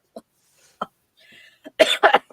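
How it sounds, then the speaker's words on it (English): A few short coughs, sparse and separate at first, then a louder, harsher burst of two close together, nearby with no talk. "TJ's gonna make me have a coughing fit here"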